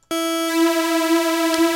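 A synthesizer pad built from saw wave voices in Native Instruments Massive sustains a single bright, harmonically rich tone, loud and steady after a sharp onset, with a slight brief shimmer near the end.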